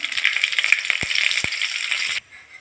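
Mustard seeds and curry leaves sizzling in hot oil for a village-style chutney, a loud, bright crackling sizzle with a couple of soft thumps, fading down sharply near the end.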